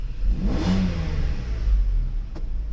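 A Mercedes V12 engine running on a throttle computer test revs up under slight acceleration, a smooth steady rise from idle with a deep continuous hum and an air pump whirring loudly nearby.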